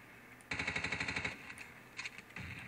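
Rapid automatic weapon fire in Battlefield played on PC, one tight burst of evenly spaced shots followed by a few scattered quieter pops, fairly faint overall.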